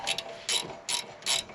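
A ratchet clicks in short bursts while loosening the rear brake caliper bolt on a Hyundai i30, four quick close ratcheting strokes with brief pauses and no talking.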